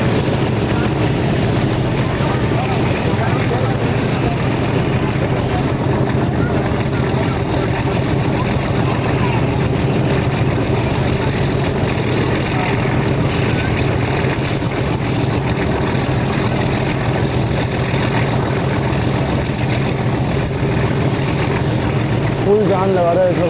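A train engine strains hard up a steep climb on the Rawalpindi to Havelian line, a loud steady low rumble and drone filling the whole stretch, with a voice talking over it.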